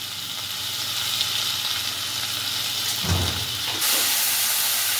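Tomatoes and ground turmeric go into a hot pan of sauteed onions, producing a steady close sizzle and hiss with a brief thud of ingredients landing partway through and a louder burst of frying near the end, with no talking.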